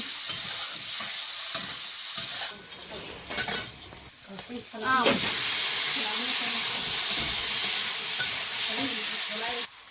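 Mango pieces fry in hot oil with dried chili, black mustard seeds and panch phoron, a close sizzling hiss that swells loud midway, with spatula scrapes and stirring and a few brief voices nearby.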